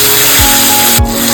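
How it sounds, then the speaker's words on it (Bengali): Chicken vindaloo being stirred in a pan with its masala while the meat is browned: a steady scraping rub with two soft low knocks, close and fairly loud, with no talking. "এবার এটাকে নেড়ে নেব। ভালো করে নাড়তে হবে।"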